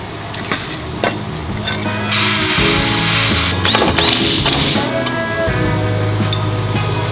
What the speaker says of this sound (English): I'm going to grind it down until I get to this Sharpie line here that I've made all the way around